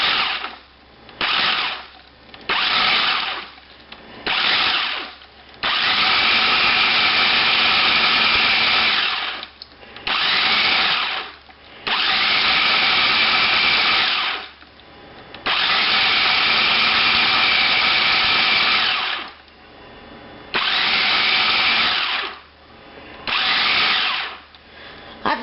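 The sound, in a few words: food processor with chopping blade chopping nuts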